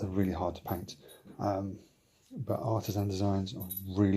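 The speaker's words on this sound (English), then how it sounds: "You hear that jingling? That's just my dog coming into" Light metallic dog collar tags jingling faintly in the background while a person keeps talking.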